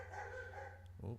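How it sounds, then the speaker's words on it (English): A dog barks excitedly in the background, a short burst near the end rising over a low steady hum, with a brief spoken interjection from a person. "that's my dog going crazy"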